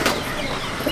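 Old line Madrasi pigeons at a loft in Rajarhat, Kolkata, give a brief, soft cooing and clucking close by, lasting only about a second with no talk.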